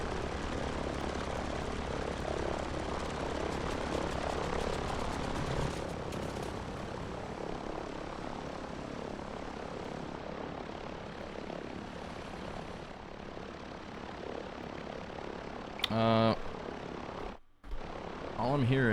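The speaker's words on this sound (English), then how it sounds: "All I'm hearing is somebody else's plane." A propeller airplane engine droning in a flight simulator game, with a Ford Tri-Motor 5-AT in the scene. The steady loud roar shifts in tone partway through, then a brief harsh burst and a sudden dropout occur near the end.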